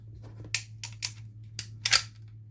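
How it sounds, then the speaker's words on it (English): A PPK-style blank pistol, a Bruni New Police, being cocked by hand with a loose magazine catch, giving several sharp metallic clicks and clacks close by, including a louder double clack near the end as the magazine drops free; steady low hum underneath. "If I cock the gun, the mag just falls out."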